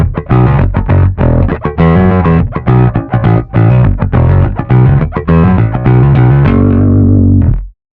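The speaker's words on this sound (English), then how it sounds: "If it's engaged, the tube sounds more aggressive." Bass guitar played through a GR Bass tube amp with the drive engaged, the saturated tubes giving a gritty, aggressive tone as a run of punchy notes ends on a sustained note that cuts off abruptly.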